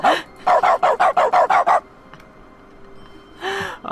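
A robotic dog bark from a console in The Stanley Parable video game: a rapid burst of about eight evenly spaced synthetic barks, then a pause and a single bark at the end, close and clear.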